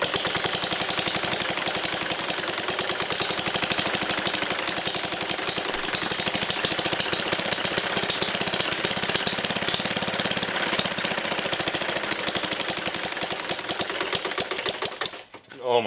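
A small 3D-printed gas engine runs at high speed with no exhaust pipe, a loud, raw, rapid-firing buzz that holds steady before sputtering out at the end.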